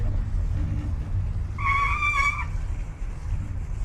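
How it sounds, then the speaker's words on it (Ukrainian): A bicycle's brakes give one short, shrill squeal lasting under a second, standing out above a constant low rumble of riding and wind noise. "Це в мене так гальма скриплять."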